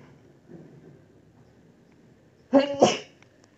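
A single sharp human sneeze bursts out loud and close after a stretch of faint background murmur, followed by a quick second burst as it trails off.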